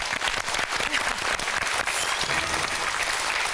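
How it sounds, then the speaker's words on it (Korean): A studio audience on a Korean TV talk show claps loudly and continuously, a dense, even wash of applause lasting a few seconds. "박수를 한번 들어볼까요?"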